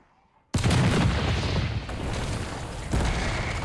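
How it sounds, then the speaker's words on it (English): A loud, sudden blast of cannon fire in the video game Citadelle des Morts erupts after a brief silence, followed by a sustained roaring rumble and a second boom near the end. "Fire the cannon."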